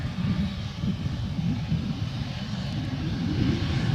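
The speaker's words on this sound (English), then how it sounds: "Jetstar making its way out now. Heading off to Sydney is 765." A Jetstar jet airliner taxis out at Adelaide Airport, its engines a steady low rumble that holds at moderate distance and swells slightly toward the end.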